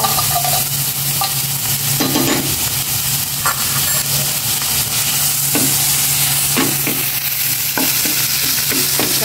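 Food sautéing in a hot pan while someone cooks breakfast and lunch, steady sizzle and frying hiss throughout with intermittent scrapes and clinks of a spatula stirring, no voices.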